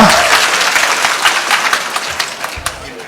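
Audience applause at a political address by a Kenyan cabinet secretary, clapping from a crowd filling the whole stretch, steady and fairly loud with a few sharper individual claps near the end.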